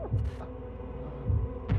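A heavy, low heartbeat from the Vampyr video game throbs in slow, muffled pulses over a steady hum, with no voices.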